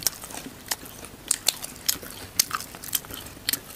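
Crunchy fried chicken being bitten and chewed up close, a steady run of sharp crisp crunches and crackles in irregular rhythm, with no talking.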